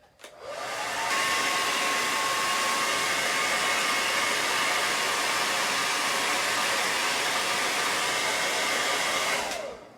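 A hair dryer blows on fresh paint on a mason jar, switching on with a quick rising whine and then holding a loud, steady rushing hiss for about nine seconds before cutting off.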